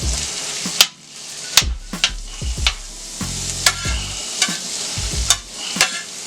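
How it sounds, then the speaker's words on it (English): Onions frying in butter on a grill, a broad steady sizzle broken by repeated scraping and stirring strokes with sharp clicks of a utensil against the hot surface, close and fairly loud with no talk. "We're going to throw that on the grill with a little bit of butter."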